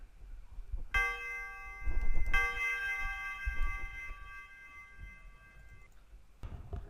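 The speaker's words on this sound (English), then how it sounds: "so the reverb kind of sounds like this" Trap beat in FL Studio with reverb applied: bell-like melodic notes ring out and trail off into a washy tail over low booming bass hits and thumping drums, moderately loud with no talking.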